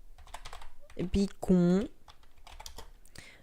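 Quick keystrokes on a computer keyboard with a tiny delete key clatter close by while a voice talks and briefly exclaims over them.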